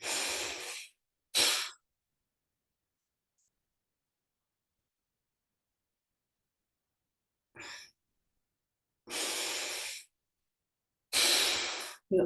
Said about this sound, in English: So let's do this, 2 more breaths.